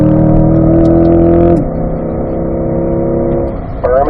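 A C8 Corvette on the Spring Mountain track drones with a loud, steady harmonic engine note from inside the car, the pitch dropping sharply partway through before holding and shifting again near the end.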